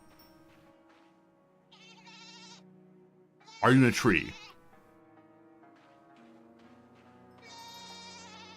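Short, loud goat bleat from a farming video game rises out of quiet background music, one sharp burst in the middle with a person talking before and after.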